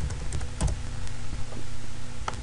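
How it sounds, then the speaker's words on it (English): A computer keyboard taps out a short command at a command prompt, a quick run of light clicky keystrokes over faint background hum. "Now you want to type in ipconfig,"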